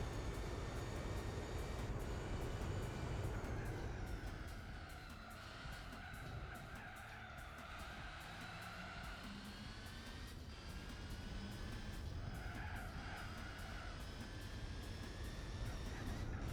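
A race car engine in Gran Turismo 4 drones steadily with rising and falling pitch, accompanied by a constant rushing roar, continuous and fairly loud throughout.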